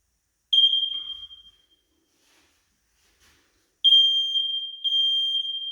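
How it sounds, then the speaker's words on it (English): A household smoke detector sounds two long, piercing electronic tones, the first about a second and a half, then a gap of near silence before a second sustained blast that keeps going, loud and close in an indoor hallway. "That was a smoke detector"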